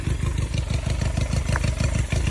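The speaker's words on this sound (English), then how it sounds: "I'm going up a tiny hill right now with no throttle input in first gear" A custom flat tracker built from a 1980s salvaged Honda CB250 climbs a small hill in first gear off the throttle, its engine thumping out a loud, regular low-rev beat with light clatter on top.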